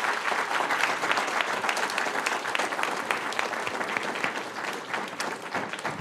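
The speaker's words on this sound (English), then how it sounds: "Let's give all of the candidates from District 12 a round of applause." Sustained audience applause for District 12 candidates at a get-to-know-the-candidates forum, a dense, steady wash of many hands clapping throughout at an even level.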